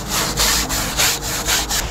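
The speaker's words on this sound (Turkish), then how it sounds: "Hatta ızgaramızı şöyle yağla temizleyelim." A grill grate is oiled and scrubbed clean outdoors, giving a loud, close rhythmic scraping that pulses back and forth about every third of a second.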